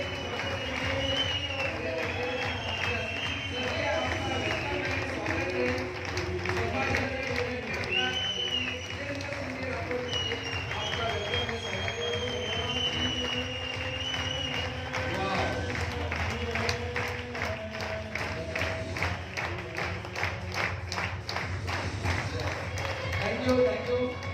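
An event audience in Chhatrapati Sambhaji Nagar applauds the main guest, Vijendra Singh Rathore, with sustained rhythmic clapping, steady and loud throughout, mixed with music and voices.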